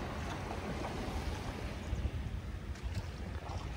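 A fishing boat being brought in and moored at the shore after the nets are hauled, with a steady wash of water and wind around the hull, close and continuous, no voices.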